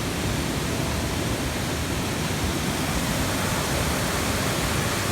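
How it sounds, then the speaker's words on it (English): Dismal Falls on the Appalachian Trail in Virginia roars as a constant, loud, broadband rush of falling water, close by and unchanging, with no voices. "Next to the waterfall."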